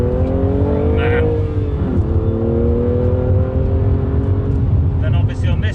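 A BMW M2 CS with 400-plus horsepower accelerates hard out of a corner, its engine pulling in a loud rising drone with a brief dip around a gear change before climbing again, close and heard under someone talking.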